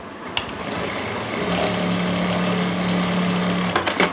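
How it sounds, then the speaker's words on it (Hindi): A sewing machine runs in a steady whirring drone, stitching over a strip of elastic for pants, with a few clicks at the start and end. "इस तरह से हमने लास्टिक के ऊपर सिलाई लगा लेनी है।"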